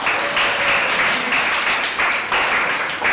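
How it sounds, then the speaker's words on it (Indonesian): Loud applause from a classroom group after a student presentation, steady dense clapping filling the whole stretch with slight swells and no voices over it. "Tepuk tangan yang keras."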